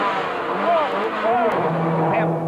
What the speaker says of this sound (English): just watch how he builds up the revs and seems to fire the car off the handbrake.